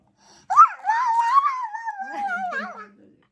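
A voice imitates a dog, producing a long, wavering whimpering whine with a short yip at the start, close and fairly loud.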